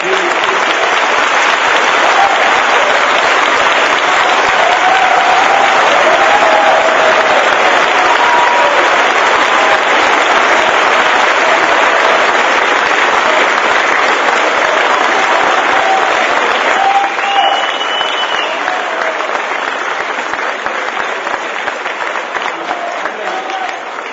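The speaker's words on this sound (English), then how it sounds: "So everybody, just give all yourselves a round of applause." Sustained, loud crowd applause at a Bob Sanders Day event, with dense clapping that holds for over twenty seconds and slowly eases near the end; a few scattered voices blend in.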